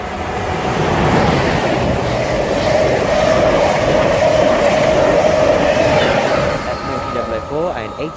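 Train passing through Needham Market station on the Great Eastern Main Line, a loud sustained rumble with rhythmic wheel clatter and a squealing tone that fades near the end.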